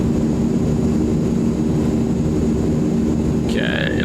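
A propeller aircraft engine, the Asurpoly C160 in Microsoft Flight Simulator 2020, drones loudly and steadily at cruise, with a brief voice near the end.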